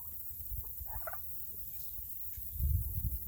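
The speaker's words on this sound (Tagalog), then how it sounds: "Come on, Mr. Turkey. Birdie, birdie" A turkey on a Texas farm gobbles in a short burst, fairly close and moderately loud, followed by low rustling and thumps.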